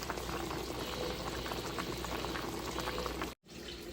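Beef nilaga soup boils hard in a pot, a steady, loud, close bubbling roar that runs unbroken apart from a brief dropout near the end.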